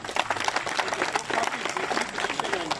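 An audience at a turban-tying prize ceremony for a teacher and students in Dhok Kashmirian gives loud, continuous applause, dense clapping holding steady throughout with faint voices mixed in.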